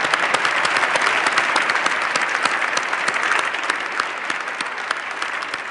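An audience in a cathedral breaks into sustained, dense clapping, a loud and even wash of many hands that continues throughout and fades only slightly near the end.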